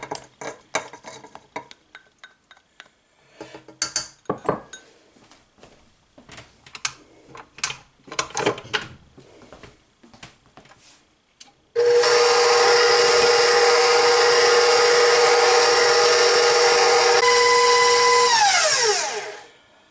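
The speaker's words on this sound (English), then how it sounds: "Next I'm going to cream my sugar and butter" Electric mixer creaming sugar with slightly softened butter for pumpkin bread, a loud steady whirring drone that starts abruptly after several seconds of clinking and tapping, then winds down and stops.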